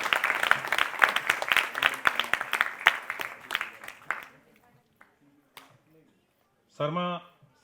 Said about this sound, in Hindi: शर्मा साहब का भी स्वागत करें जोरदार तालियों के साथ में।